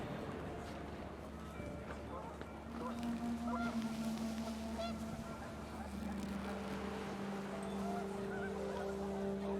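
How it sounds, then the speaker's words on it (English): Panicked geese honk in the video game What Remains of Edith Finch as the wind picks up, their calls faint and mixed with wind under a narrator's voice. "The wind picked up, and panicked geese appeared and quickly went."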